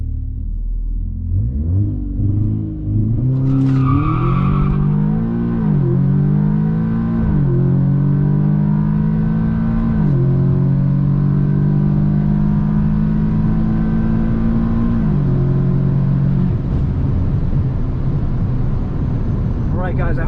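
A Stage 2 Audi S3 launches down a quarter-mile drag strip at night, its engine rising through several gears with loud, close revving climbs and brief dips at each shift before fading to a steady drone.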